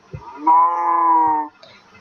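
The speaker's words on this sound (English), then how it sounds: "And there are cows everywhere." Cows in the Minecraft video game give a single clear, drawn-out moo lasting about a second, close and alone with no talking over it, with faint game sounds before and after.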